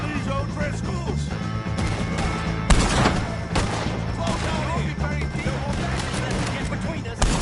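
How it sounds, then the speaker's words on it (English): Chaotic gunfire in Red Dead Redemption 2 while shooting O'Driscoll gang members: dense overlapping shots and crashes with a loud blast near the start, under shouting voices and a busy background of noise. "shoot some of these O'Driscolls!"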